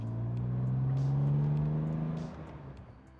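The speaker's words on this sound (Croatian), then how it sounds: "M30 zvuči prekrasno. I u niskim okretajima postaje malo rezki, u visokim okretajima fantazija." A BMW E24 635i with its M30 straight-six revs up close and loud: a steady, rising engine note holds for about two seconds, then drops away and fades as the revs fall, with no voices over it.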